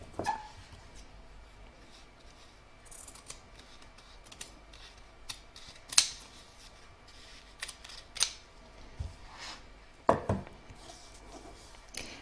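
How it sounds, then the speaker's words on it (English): Fabric trimmed with scissors between stitch rounds of an in-the-hoop scrappy heart design for machine embroidery: a few sharp, isolated snips spaced seconds apart over a quiet background, with no talking. "I'm going to remove the tape and just trim up here a little bit."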